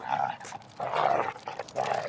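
A dog gives whining, whimpering sounds mixed with a few soft barks in short bursts. It is fairly quiet and close, with no clear talk.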